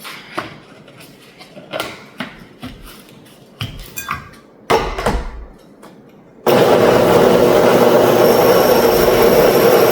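Kitchen clatter and knocks give way to a loud, steady whirring roar as a not very high speed blender blends celery and ginger with about three cups of water, running continuously to the end.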